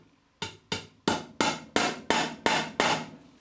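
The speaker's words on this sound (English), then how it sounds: "I'm just going to tap that in using the hammer" Eight sharp, evenly spaced hammer taps drive a screw extractor into a broken bolt stuck in a deep recessed hole, each metallic strike close and ringing briefly before the next.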